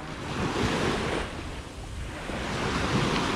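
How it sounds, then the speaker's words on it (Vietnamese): Sea waves at Ho Tram, a fishing village on a busy tourist swimming beach in Vietnam, surge and wash steadily with wind buffeting the microphone, and no one talks. "ở phía dưới kia là một bãi tắm mà có rất nhiều khách du lịch đang tắm biển"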